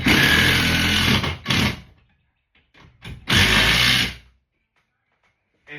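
A power drill drives a screw into a wall to fit a TV mount, with two loud close bursts of whirring and a brief trigger blip between them, then quiet.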